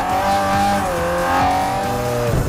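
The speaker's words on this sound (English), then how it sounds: "This car also became a lot louder after the upgrades" Upgraded cheap race car in Forza Motorsport 4, its loud engine droning and shifting pitch steadily through gear changes, with a brief tire squeal near the end, no talking.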